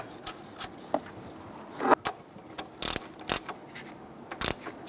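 Metal clicks and short ratcheting bursts as a nut is run down onto the alternator wire terminal of a 1999-2004 Jeep Grand Cherokee 4.7L V8, close and loud, with sharp isolated taps and brief rattles and no talking.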